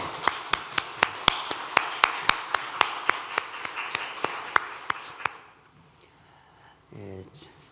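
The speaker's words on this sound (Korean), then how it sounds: "우리 박수 한번 칩시다" A church congregation claps together in a steady, even beat of sharp claps for about five seconds, then stops and a voice begins speaking.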